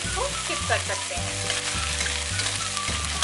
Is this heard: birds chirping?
no